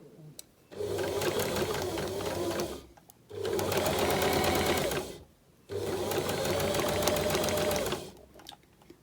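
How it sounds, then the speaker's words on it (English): Sewing machine stitching a single point dart in fabric, running in three steady bursts of rapid mechanical whirring separated by brief pauses. "use the hand wheel to help you take the last few stitches and the final stitch off the edge of the fabric"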